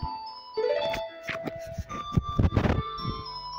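A gentle, chiming lullaby melody from Zelda: Ocarina of Time plays in short tinkling notes, a simple tune with soft plucks and rhythmic thumps underneath.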